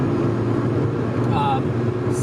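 Steady, loud cabin drone and road roar inside a lowered 2000 Honda Civic Si cruising on the highway, with a brief voice in the middle.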